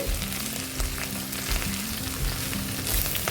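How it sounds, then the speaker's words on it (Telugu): Finely chopped gurugaaku leaves fry in hot oil while being stirred, a close, steady sizzle with soft rhythmic scraping of the pan and no voices. "గురుగాకుని ఆయిల్లో ఒకసారి ఇలా మిక్స్ చేసుకోవాలండి"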